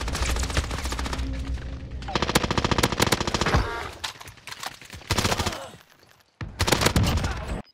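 Rapid machine gun bursts in a multiplayer shooter video game, loud and close, firing in long sustained volleys broken by short pauses and a brief lull near the end.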